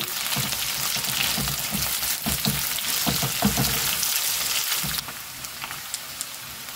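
Sliced onions and a sprig of curry leaves fry in hot oil for a Tamil okra fry, giving a steady, close, dense sizzle with a few stirring knocks before the crackle drops to a quieter simmer toward the end.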